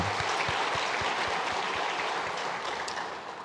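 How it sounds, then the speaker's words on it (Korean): A church congregation stands and applauds newly elected elders during a Sunday worship service, a steady wash of many hands clapping that carries on evenly before tapering slightly, with soft low thumps underneath. "잠깐 자리에서 일어나시면 우리 박수로 격려하시겠습니다"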